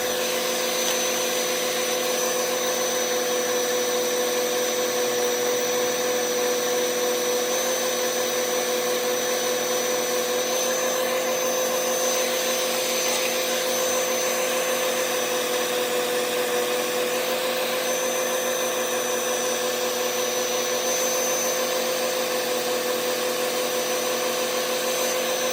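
A buffing wheel loaded with white buffing compound polishes a knife blade, giving a continuous loud motor whine and hiss that stays steady throughout, with no talking.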